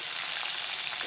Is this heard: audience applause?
no